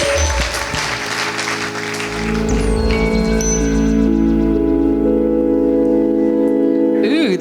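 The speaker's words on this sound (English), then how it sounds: "Give yourself a warm round of applause." Warm applause from the audience at a Pecha Kucha night in Dundee, a broad clatter mixed with loud tonal music or hum and some cheering, continuing under a sustained background throughout.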